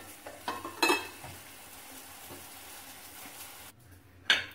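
Egg fry in a nonstick pan with sesame oil: a soft, low sizzle runs throughout, with a few scraping stirs near the start and another clank near the end.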